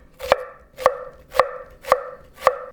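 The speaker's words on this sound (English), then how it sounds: "now we start to chop everything for the frittata. And we start with the shallot." A knife chops a shallot thinly for a sausage frittata, five crisp, evenly spaced thuds on a cutting board, close and clear, with no voices.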